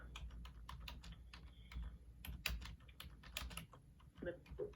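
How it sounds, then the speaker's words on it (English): Fingers tap out irregular bursts of keystrokes on a computer keyboard, close and fairly quiet, without speech over them. "hit enter on your keyboard"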